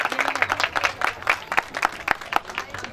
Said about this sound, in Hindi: जोर से बजाएं जरा तालियां।